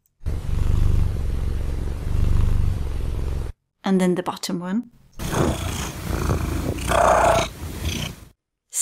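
Recorded domestic cat calls: a steady rumbling purr, then a short trill, then a trill merged with purring, played close and loud, with someone briefly speaking between them.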